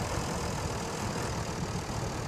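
A tractor engine in the SnowRunner video game drones steadily through deep water, a constant low idling rumble with no break and no talk.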